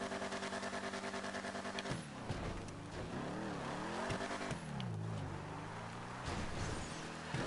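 A car engine in GTA Online drives hard at high revs, a loud, close, buzzing note that rises and falls through gear shifts and throttle changes, with brief tire-squeal moments along the way.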